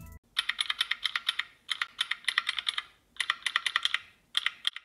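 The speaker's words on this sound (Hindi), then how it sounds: "अगर आपने अपने पीसी के थ्रू मैकेनिकल कीबोर्ड यूज़ किया है तो कुछ इस तरह का साउंड आता है।" Mechanical keyboard typing simulated by an Android app: rapid, crisp clicking keystrokes in quick bursts separated by short pauses, close and clear with no talking.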